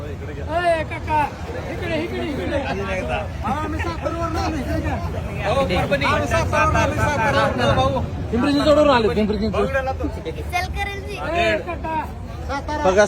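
Dense crowd chatter fills Hotel Bhagyashri restaurant on a busy Sunday as many voices overlap in a loud, steady babble, with one nearer voice sometimes standing out from the hubbub.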